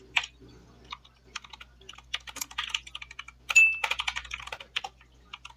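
Quick, uneven clicks of fingers typing code on a computer keyboard, close and crisp, coming in irregular bursts in a quiet room.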